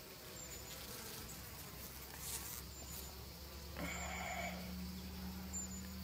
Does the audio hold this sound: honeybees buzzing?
yes